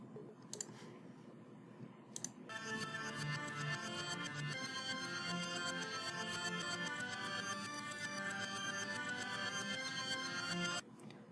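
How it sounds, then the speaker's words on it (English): Reversed synth tones swell in a sustained, bright layered chord, with faint clicky textures before the pad enters and a sharp cutoff near the end. "They sound like reversed synths."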